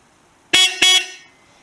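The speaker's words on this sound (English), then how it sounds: "Test 2, the new horn." Two quick honks from a newly fitted horn on a GY6 Chinese scooter, close and loud, the second slightly longer, then silence.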